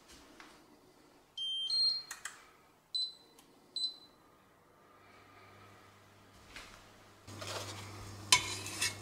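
Metal cooking pots clatter onto a stove in a home kitchen while making kale sausage, with a few sharp clinks and knocks spread over the opening seconds, then a low hum and a louder rattling burst near the end.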